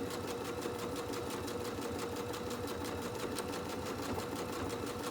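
A sewing machine runs slowly and steadily, stitching around a holiday ornament, with a continuous even motor whir and rapid needle rhythm held at a constant level throughout.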